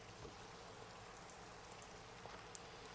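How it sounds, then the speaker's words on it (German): Minecraft rain falls as a steady, soft hiss of drops, constant and faint throughout with no voices over it. "das ist bestimmt wieder der normale Regen bloß"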